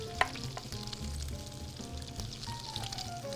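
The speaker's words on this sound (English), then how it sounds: "We're going to stir all this together" A farm-to-table kitchen mixture with a generous amount of fresh dill being stirred together, giving soft, wet scraping and shuffling sounds that repeat steadily, with no talking.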